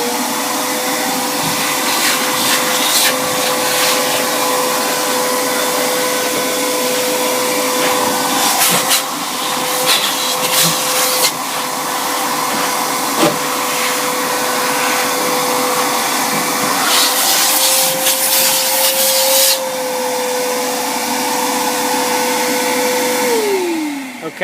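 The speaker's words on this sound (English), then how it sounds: "I just take my regular shop vac" A regular shop vac runs continuously while vacuuming out an air handler, a loud steady whine with intermittent rattling sucks and clatters of debris, winding down at the very end.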